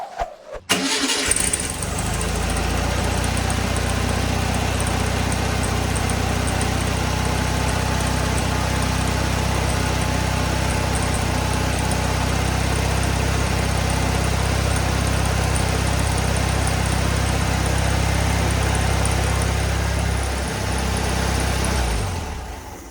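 A 1600cc dual-port VW Bug engine starts for the first time, catching after a brief crank, then idles loud and steady at close range for about twenty seconds before cutting off.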